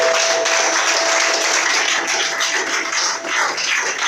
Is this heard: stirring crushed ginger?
no